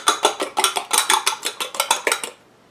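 Metal spoon scraping and clanking against a pot while stirring a meatball mixture, about a dozen quick rhythmic strokes close up, each a bright clatter, ending abruptly.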